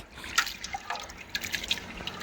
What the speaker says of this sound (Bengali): দেখুন আবার জলটা ফেলে দিচ্ছি